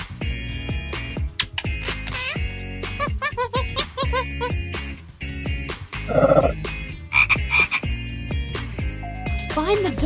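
A cartoon frog croaks behind a door in a PAW Patrol jungle rescue game, with repeated bright, bouncy croaks and giggly chirps over a busy, rhythmic game soundtrack.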